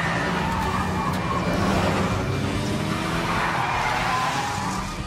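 A Ghost Recon Wildlands car chase with ramming fills the clip with roaring engines and squealing, skidding tires, a steady loud mix of vehicle noise with no talking.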